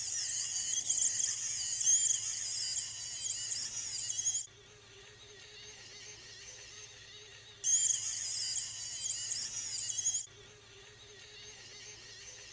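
A spinning crystal chamber in an Artsabers Quinlan Vos lightsaber whirs with a bright, high-pitched whine. The whine alternates twice with a quieter, lower hum, each phase lasting a few seconds, close and steady, with no talking.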